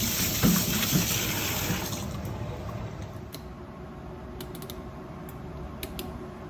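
Raw chicken pieces rinsed under running water in a colander: a loud tap stream for the first two seconds, then quieter splashing and a few sharp clicks and clinks as the pieces are handled up close, with no talking.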